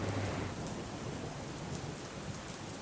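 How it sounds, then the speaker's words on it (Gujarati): The Gira waterfall on the Ambika River in Dang, swollen by heavy overnight rain, roars in flood as a dense, continuous wash of rushing water, steady and loud with no voices. "અંબિકા નદી ઉપર જે ગીરાધોધ આવેલો છે એ ગીરાધોધ પણ પોતાના રૌદ્ર સ્વરૂપમાં જોવા મળી રહ્યો છે।"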